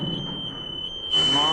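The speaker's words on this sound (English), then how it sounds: "and then the smoke alarms go off." A piercing smoke alarm shrills in a steady, unbroken tone throughout, loud and close, with voices murmuring underneath before the sound suddenly swells louder near the end.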